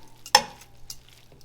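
A spoon gives one quick clattering stir through carrots and spinach with citrus juice and butter in a pan off the heat, followed by a faint soft sizzle and a small tap.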